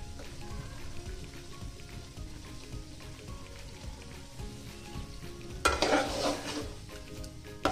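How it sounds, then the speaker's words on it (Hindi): Gosht, meat for aloo gosht, fries in oil in a pot with a quiet, steady sizzle under background music, then bursts into a louder, crackling hiss for a couple of seconds before settling back. "गोश्त को मैं अच्छी तरह भूनूंगी"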